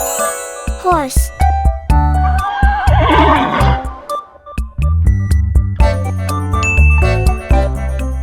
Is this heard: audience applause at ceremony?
no